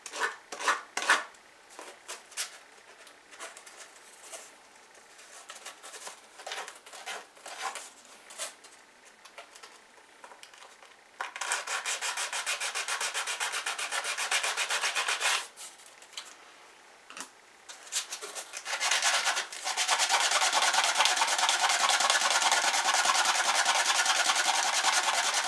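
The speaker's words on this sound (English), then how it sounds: "you can either hold this on there and just sand it that way" Sanding a guitar pick cut from a plastic gift card produces a steady, close rasping scrape, first in short uneven strokes and then in long continuous bursts that grow louder toward the end.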